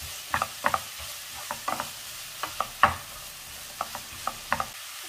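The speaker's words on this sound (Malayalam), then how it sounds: "സവാള നന്നായിട്ട് വഴന്നു വരണം." Onions sauté in a pan while a spatula stirs, making a faint, steady sizzle under sharp, irregular scraping clicks close by.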